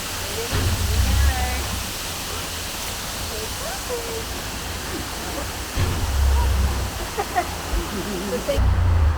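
A waterfall heard from a boat passing through it, a loud, continuous roar of falling water with rushing spray, swelling and easing as the boat moves, while people talk and exclaim over it.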